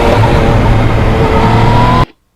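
A Yamaha MT-09 motorcycle engine on the road, loud and close, droning steadily at high revs for about two seconds before cutting off abruptly into silence.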